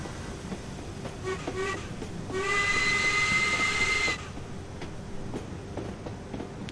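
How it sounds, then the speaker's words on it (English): A four-coach passenger train runs along the Peak Forest railway in Train Sim World 3, with a steady low rumble throughout and a loud sustained whistle blast in the middle, no talking heard. "This is a 4-coach train, I believe."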